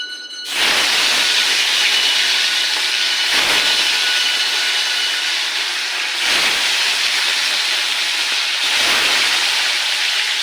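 Food pieces frying one at a time in a pan give off a loud, steady sizzling hiss that fills the clip, dipping briefly every few seconds before surging back.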